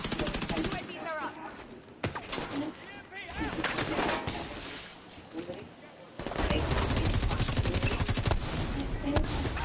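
Birds chirp in the open world of the video game The Division 2, mixed with bursts of gunfire while people talk.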